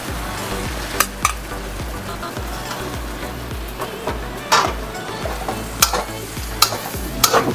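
Seafood chow mein is stir-fried in a pan, with vigorous sizzling under repeated sharp scrapes and clanks of a utensil against the metal at irregular intervals, no speech.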